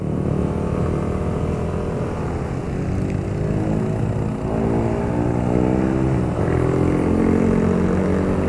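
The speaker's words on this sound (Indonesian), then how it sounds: "Dipakai menanjak pun juga cukup enak. Jadi kita tidak perlu membuka throttle gas lebih dalam, karena sudah sangat responsif tarikan awalnya." A 2019 Yamaha Nmax 155 scooter engine pulling uphill, a steady loud droning hum with rising pitch as it accelerates, recorded up close with wind roar.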